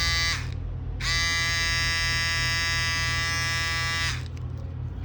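An electric hair trimmer switched on and running after a repair, giving a steady harmonic motor buzz that starts about a second in and holds for three seconds before cutting off, over a constant low hum.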